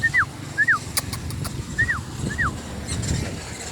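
Stray dogs living on garbage give four short, high, rising-and-falling whimpers, spaced unevenly over a low rumble of background noise, with a few faint knocks.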